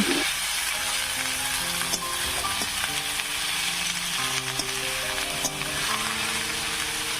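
Radish greens frying in a pan, with a steady loud sizzle and occasional scrapes and taps of a stirring utensil, close and without talk.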